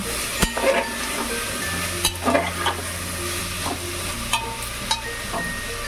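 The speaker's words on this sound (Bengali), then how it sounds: "মশলার সাথে কিন্তু আলুটা একটু ভাজা ভাজা হবে।" Potatoes frying with turmeric and spices in a pan for a pea curry, stirred with a utensil: a steady sizzling hiss broken by several sharp scraping knocks against the pan, close and alone.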